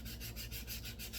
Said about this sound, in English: Just going to keep sanding on her